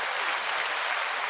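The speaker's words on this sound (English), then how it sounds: "Give a round of applause for Jamel" A steady wash of audience applause, dense and even throughout a short burst with no talking.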